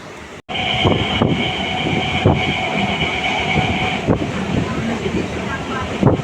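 A train pulls into Tarkeshwar station with a loud, close rumble, a sustained tonal hum and scattered clanks and knocks over continuous rail noise.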